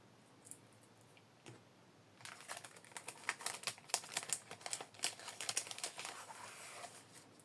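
Crisp paper crinkling and tearing as an envelope is opened starts after a quiet moment, a quick run of rustling rips close up, with no voices.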